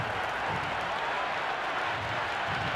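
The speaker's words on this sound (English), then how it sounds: "The crowd is electric right now." A stadium crowd roars and applauds steadily at a T20 cricket match between India and Pakistan in Cricket 26, a dense continuous wash of noise with no clear breaks.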